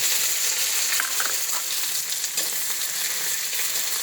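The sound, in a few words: onions frying in oil with black cumin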